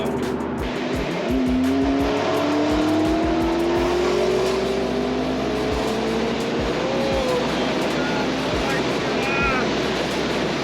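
A modified 750 whp McLaren MP4-12C accelerates hard under automatic shifting, its engine note climbing steadily in pitch through the gears, loud and sustained against heavy road and wind roar.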